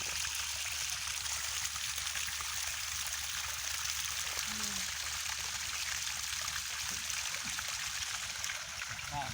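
Water flows strongly from a solar-powered pump, a steady rushing, trickling stream that continues throughout, with faint voices in the background.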